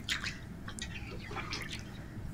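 Chicken jhol with water just added is stirred in a pot, giving soft, continuous liquid sloshing and light dripping splashes, quiet and close.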